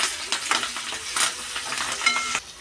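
Ginger garlic paste and cloves stirred in a pan on low heat for tomato rice: an even sizzle with repeated close scraping strokes of a spoon against the pan, no one speaking.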